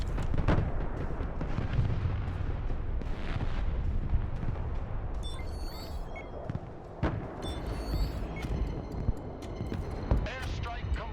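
An airstrike in a video game brings a dense, rumbling run of bomb explosions and heavy booms, with sharp cracks coming through a continuous roar. People talk over parts of it.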